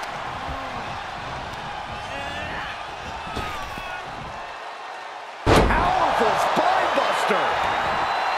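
In a Nakari vs Raiya wrestling match, a wrestler is body slammed onto the ring mat with one sudden, loud, booming thud partway through, followed by crowd noise and ring commotion under a commentator's voice.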